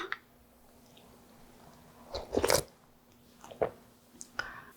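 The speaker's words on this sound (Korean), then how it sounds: "일단 국물을 먼저 먹어보도록 하겠습니다" Someone sips and chews freshly made cabbage water kimchi broth, with a few close, wet slurping and crunching bursts separated by quiet pauses.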